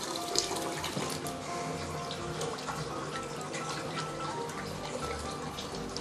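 Tap water runs steadily into a bowl, with soft splashing and swishing as rice is rinsed; no talking.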